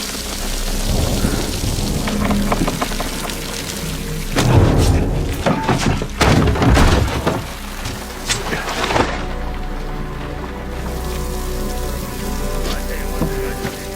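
Heavy rain pours steadily throughout, with deep rumbling bursts in the middle suggesting thunder or impacts over the downpour.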